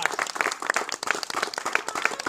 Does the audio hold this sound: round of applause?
yes